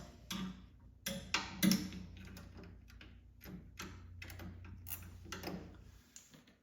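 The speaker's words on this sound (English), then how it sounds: "take your 5/32 Allen and 11 millimeter wrench" Bolts on ice scratchers of a Ski-Doo MXZ snowmobile are tightened with a 5/32 Allen key and an 11 mm wrench, giving close, quiet metallic clicks and scrapes in short irregular bursts, with no talk.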